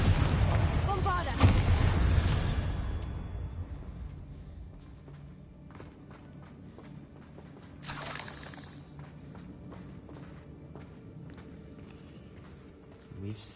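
Explosive spell blasts from the Confringo and Bombarda curses in the video game Hogwarts Legacy, played on PS5: a loud burst at the start, another boom partway through and a final one at the end, with rumbling game ambience and a voice in between.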